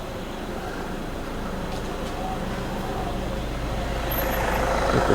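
A red truck passes close by on a street near a temple in Thailand, its engine rumble swelling steadily and growing louder toward the end amid continuous traffic noise.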